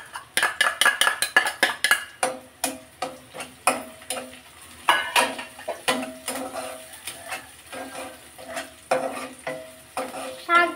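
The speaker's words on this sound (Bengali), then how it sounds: "আর এই তো পোড়ামরিচ আর পেঁয়াজ কুচিকে একদম ভাজা ভাজা করে নিব আমি।" Dried chillies and chopped onion frying in a pan, with a steady sizzle broken by repeated sharp scrapes and clatters of a spatula stirring against the pan, close and loud.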